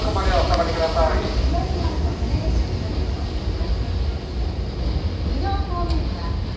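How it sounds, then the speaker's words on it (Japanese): A Hankyu Takarazuka Line 6000 series electric train arriving at Osaka Umeda station, a steady rumble of wheels and motors over the platform, with a station announcement voice and a few brief squeals and tones over the noise. "4号線電車が到着します。"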